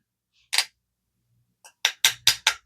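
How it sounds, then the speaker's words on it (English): Almond flour container tapped against a surface to knock the flour from its bottom: one sharp knock, a pause, then a quick run of four crisp knocks, close and clear. "Let me knock this off the bottom."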